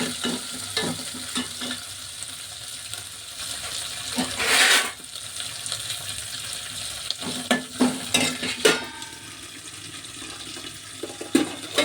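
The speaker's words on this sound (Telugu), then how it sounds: "ఇలాగా వేగించుకోవాలి" A pan of ingredients for a coconut tomato stew sizzles up close while being stirred, with louder surging bursts and scraping clatter between stretches of steady frying.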